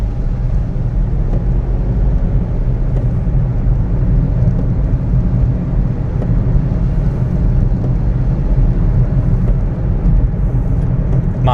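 A car accelerating on a UK dual carriageway with a 50 speed limit, driven by a new driver, gives a loud, steady engine and road drone from inside the cabin, unbroken throughout.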